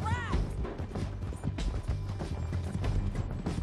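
Horse hooves galloping in the video game Red Dead Redemption 2, a steady rapid clip-clop close up under game music and mechanical effects, with a brief whinny-like sweep at the start.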